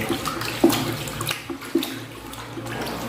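Water pouring from a dipper into a pail of white gloss latex paint, a close, steady splashing rush with a couple of sharper plops near the start.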